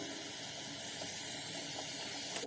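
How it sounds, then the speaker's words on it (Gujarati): Samosas deep-frying in oil over a low gas flame, giving a continuous soft, even hiss with no breaks, close and moderately quiet, and no one talking. "સ્લો ગેસની ફ્લેમ પર સમોસાને તળાતા લગભગ 5 થી 6 મિનિટ જેટલો સમય થઈ ગયો છે।"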